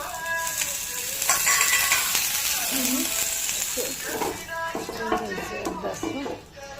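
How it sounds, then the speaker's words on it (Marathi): Oil and water splashed onto a hot dosa tawa sizzle loudly, with a strong hiss that flares after about a second and then crackles steadily while someone talks. "आपला तवा आता गरम झाला आहे. त्याच्यावर थोडंसं तेलाचं पाणी टाकायचं."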